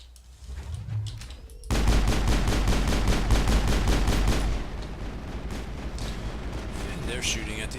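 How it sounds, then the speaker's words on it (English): Gunfire at a turret in the Mass Effect video game on Noveria breaks into a loud, rapid volley of evenly spaced shots after a quieter start, then settles into a rumbling, duller stretch, with speech in the mix. "they're shooting at the other turret now"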